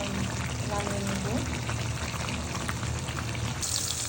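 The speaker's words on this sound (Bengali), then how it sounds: "এখন মাছ ভেজে নিচ্ছি" Fish frying in a pan on a home stove, a steady crackling sizzle with scattered pops running throughout, fairly loud and close, with faint kitchen noise mixed in.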